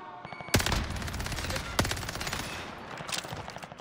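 Video game gunfire during a firefight: a few sharp loud shots and a sustained rattle of distant automatic fire, with a voice speaking over it.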